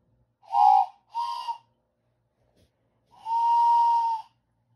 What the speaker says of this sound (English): Two whistles. That's odd.